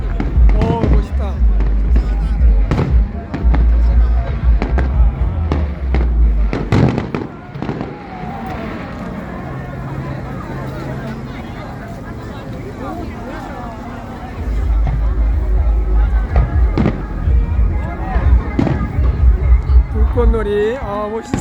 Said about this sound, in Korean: 불꽃놀이가 시작되었습니다.